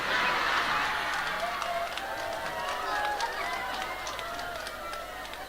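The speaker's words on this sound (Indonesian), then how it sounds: "Kok kamu tepuk tangan?" An audience claps during a sermon, with a burst of hand claps fading over several seconds amid crowd murmur and a speaking voice.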